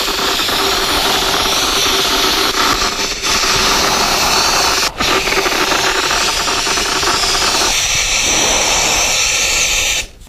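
A powder coating gun sprays white powder over a black part, giving a loud, steady airy hiss that runs unbroken for about ten seconds, dipping briefly midway and cutting off at the end.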